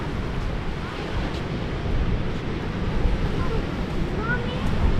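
Ocean waves wash onto a beach in a steady, even roar mixed with wind noise, rising slightly toward the end.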